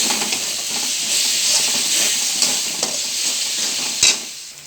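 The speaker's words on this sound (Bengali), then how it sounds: "দিয়ে দেবো অল্প জিরে গুঁড়ো আর অল্প ধনে গুঁড়ো ভালো করে মিশিয়ে নেব" Cumin and coriander powder masala fries in a pan for a mackerel curry. A steady, loud sizzle and hiss runs throughout, with scraping stir strokes and one sharper clank near the end.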